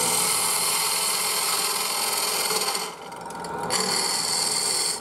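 A spindle gouge shapes a wooden bowl spinning on a lathe, making a continuous loud scraping hiss that dips briefly as the tool eases off, then resumes.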